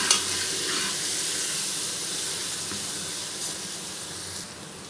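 Onions frying in a pan give a steady, fairly loud hiss and sizzle that holds evenly throughout, with faint occasional stirring and no voices.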